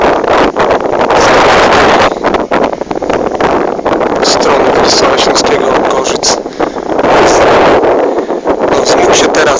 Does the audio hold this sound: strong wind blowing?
yes